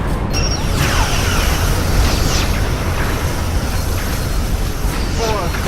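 Starship explosions in the Star Trek Legacy PC game, dense continuous blasts and rumbling debris with laser-like sweeps, loud and sustained, overlaid by a repeated synthetic announcer voice.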